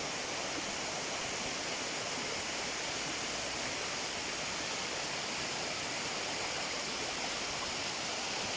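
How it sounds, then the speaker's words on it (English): Steady, full rushing roar of a waterfall at Tam Đảo, Vietnam, continuous and close, with no voices over it. "First waterfall."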